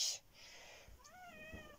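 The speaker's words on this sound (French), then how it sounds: "Le chat a décidé de casser les pieds." A house cat meowing indoors, one drawn-out wavering meow that rises and falls, fairly close but soft, following a brief rustle with no talking.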